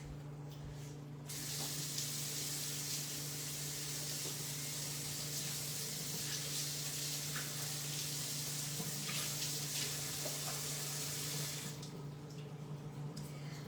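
Short grain rice is rinsed under a running kitchen tap, a steady splashing stream of water that carries on without a break for around ten seconds before it shuts off. A low hum sits underneath and nobody speaks.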